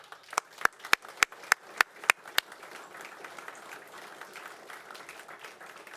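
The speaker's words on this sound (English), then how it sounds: "Let's give him a big round of applause." A handful of sharp, evenly spaced claps ring out, then give way to softer scattered applause from a crowd that gradually fades.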